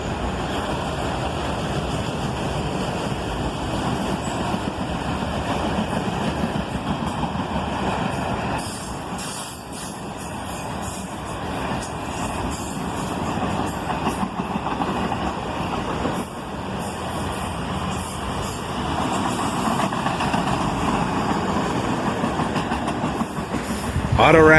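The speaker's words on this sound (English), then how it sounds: "Leading, we have an sd50-3, originally built as an sd40-2 for the Louisville and Nashville" CSX freight train led by SD50-3 locomotives, including one originally built as an SD40-2 for the Louisville and Nashville, rolling past at sundown in Carlisle with a steady, loud rumble of engines and wheels, a few voices heard faintly under it.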